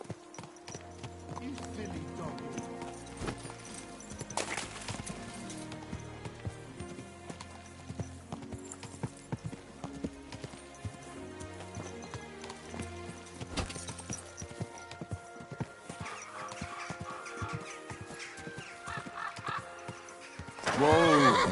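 Rhythmic clip-clop of horse hooves over game music in Kingdom Come: Deliverance 2, with a horse whinnying and fowl clucking in the background.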